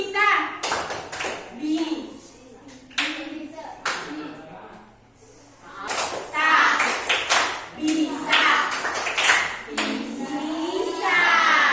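A school class clapping together in rhythmic patterned bursts, sharp and close, alternating with a teacher and children chanting and talking between the rounds of claps.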